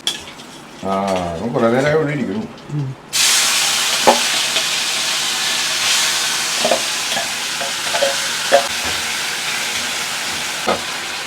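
Ivy gourd and curry leaves frying in hot coconut oil: a loud, steady sizzle starts abruptly and continues close by, with occasional clinks and scrapes from a stirring utensil against the pan.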